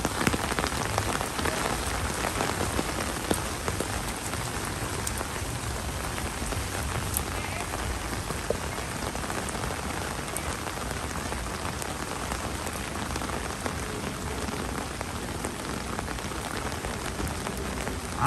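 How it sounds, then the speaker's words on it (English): Heavy rain pours steadily at an Animal Kingdom theme park, a dense, even hiss of drops on surfaces lasting throughout, loud and close with no voices. "when it rains this heavy or for this long"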